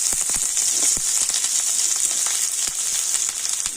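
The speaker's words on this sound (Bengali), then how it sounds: "আর এবার আমি ওই তেলের মধ্যে দিয়ে দিচ্ছি পেঁয়াজ।" Chopped onion with green chillies sizzles in hot oil, a steady close frying hiss with scattered crackles and pops throughout, no talking.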